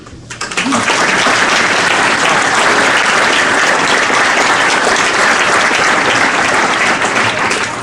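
Loud, sustained applause from a crowd at a Veterans Day gathering, starting abruptly and holding as a thick, even wash of clapping from many hands close by, with no talk over it.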